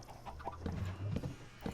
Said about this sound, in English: Thank you, chickens,